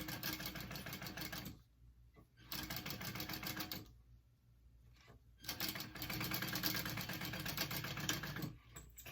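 A sewing machine stitches connectors on a handbag in several rapid, whirring bursts, with short quiet pauses between runs, heard close but at low volume.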